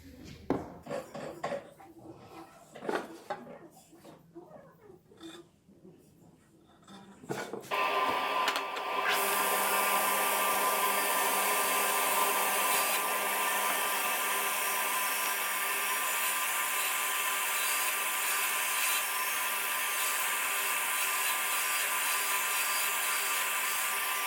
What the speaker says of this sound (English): if we just take that over to the crosscut saw and set this depth